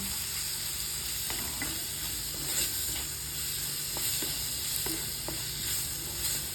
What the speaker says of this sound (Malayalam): അതിലേക്ക് നമുക്ക് ചെറുതായിട്ട് അരിഞ്ഞു വെച്ച തക്കാളി ആഡ് ചെയ്ത് കൊടുക്കാം തക്കാളി ആഡ് ചെയ്തതിന് ശേഷം ഒന്നുകൂടെ ഒന്ന് നന്നായിട്ട് മിക്സ് ചെയ്യാം